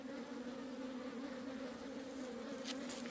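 Swarm of flies buzzing in an Argentine wetland, a continuous steady drone close by with no voices.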